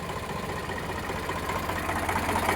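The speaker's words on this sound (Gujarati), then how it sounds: "પેટી પેક એન્જિન ફૂલ જવાબદારી વાળું." An Eicher 368 tractor engine runs at a steady idle nearby, a low rhythmic diesel chugging with a faint metallic knock, holding even and unchanged throughout.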